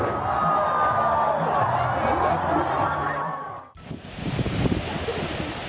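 A stadium crowd at a monster truck show roars and cheers after a front flip, a dense, steady swell of voices that cuts off abruptly into rough, noisy wind-like rumble.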